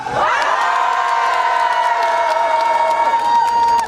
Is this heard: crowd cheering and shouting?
yes